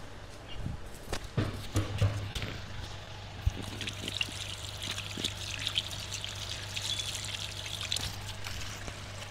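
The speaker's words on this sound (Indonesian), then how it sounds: "Saya cuci tangan dulu biar bersih tangannya." Tap water trickles and pours steadily during handwashing, close and fairly quiet, broken by splashes, knocks and handling sounds over a low hum.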